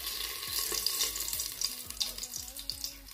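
Bay leaves and cinnamon sticks go into hot oil in a pan for tomato rice, giving a steady, close, soft hiss and sizzle with scattered small crackles and no talking.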